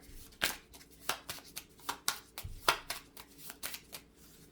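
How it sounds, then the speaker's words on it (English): A deck of board game cards is shuffled in quick riffling bursts, several crisp flutters close by and moderately quiet, with no talk over them. "we're just going to do a quick shuffle here to get everything going"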